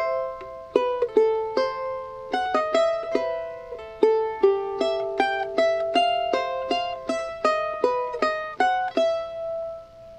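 A charango plays a taquirari phrase of bright plucked notes, a quick run of single notes and strummed chords in a lively rhythm, clear and close with no voice.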